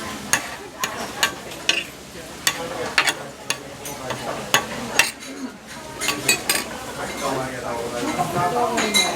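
Okonomiyaki cooks on a griddle in Kyoto with a soft sizzle underneath, broken by repeated sharp metallic clinks and scrapes of spatulas on the hot plate, with people talking over it.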